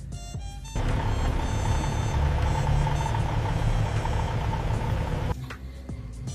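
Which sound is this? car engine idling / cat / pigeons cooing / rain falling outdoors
car engine idling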